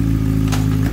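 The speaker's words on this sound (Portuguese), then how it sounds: "Ele acelera mesmo, Cauê." A Yamaha Fan 600R motorcycle engine revs hard and close, a loud continuous roar with rough clattering pulses through the short burst.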